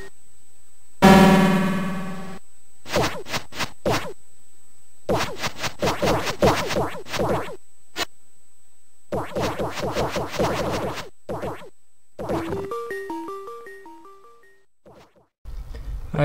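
Sound effects from the Gauntlet arcade game on a PlayStation Classic: a series of crunchy digital noise bursts and clicks in uneven groups, then a short run of bright electronic beeping tones, with no background music.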